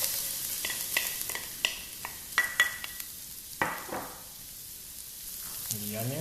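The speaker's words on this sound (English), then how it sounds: "I'm going to go ahead and put the garlic and the ginger." Garlic and ginger dropped into smoking hot oil in a pan for a chicken stir fry: faint sizzling with sharp clatters and scrapes of a utensil, quieting toward the end before a brief voice.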